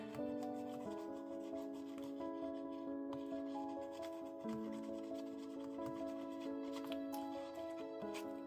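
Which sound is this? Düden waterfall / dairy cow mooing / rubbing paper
rubbing paper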